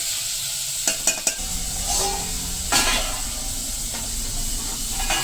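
Paneer roasting and being stirred in a hot pan, a steady sizzling hiss with a few sharp scraping clatters of the spoon early on, close and moderately loud throughout.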